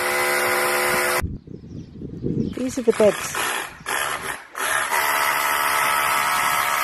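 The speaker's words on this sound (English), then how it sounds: "Our neighbours are having new windows put in, so excuse the noise." Power tools whirring and grinding as neighbours install new windows, heard loudly from nearby during a garden visit, broken by brief pauses while a person speaks over them.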